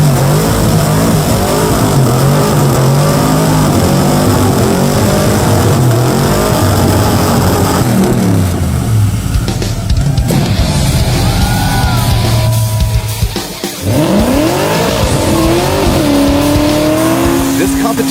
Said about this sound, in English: Finnegan kicked it off in his Mopar Hemi-powered Blasphemy 55 Chevy Gasser.